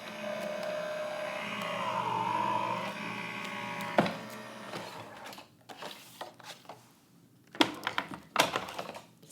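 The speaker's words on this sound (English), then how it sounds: "you'll run that through the machine, and that will cut that die right out for you" A die-cutting machine cuts a flower card die for a shaped card, giving a steady motorized hum for about four seconds, a sharp thunk, then scattered clicks and handling knocks.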